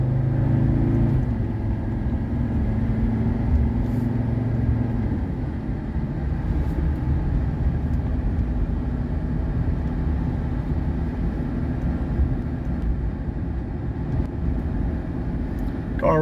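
A 1985 Mercedes 300SD diesel accelerates uphill from inside the cabin, a steady low engine drone and road rumble that shifts pitch early on, then holds evenly for the rest of the run.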